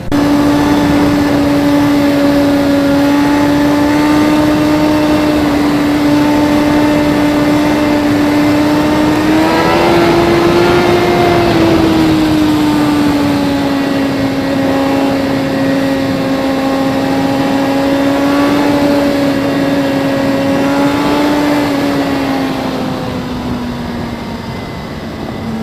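A 2017 Suzuki GSX-R1000R sport bike engine holds a steady, loud, smooth drone up close, rising slightly in pitch around the middle and easing down toward the end, with no voices.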